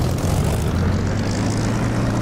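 A Spitfire's propeller engine roars at takeoff power in the DCS flight simulator, a loud, steady, close drone with a deep low rumble and no break.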